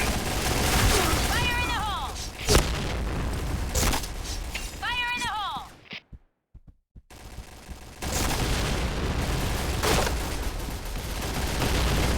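Rapid bursts of PUBG gunfire crack out in quick strings, with a sharp drop to near silence midway before the shooting resumes, while players talk and shout over it.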